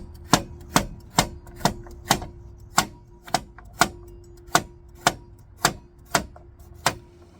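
Knife chopping carrots into slices on a cutting board for home canning, with about a dozen crisp, evenly spaced chops repeating steadily and close by, with no talking.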